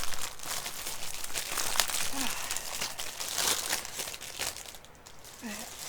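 A sturdy plastic bag from a beginner resin domino kit crinkles and rustles continuously as it is handled close up, loud and steady, with a brief voice in the background.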